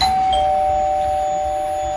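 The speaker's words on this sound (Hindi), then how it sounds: "कुछ देर के बाद ही दरवाजे की घंटी बजी।" A single electronic doorbell chime rings clearly, a steady sustained tone holding for about two seconds over a faint low room hum.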